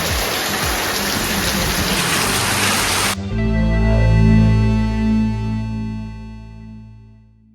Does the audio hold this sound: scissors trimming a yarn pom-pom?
no